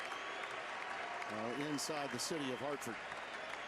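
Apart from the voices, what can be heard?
crowd cheering at UConn basketball home game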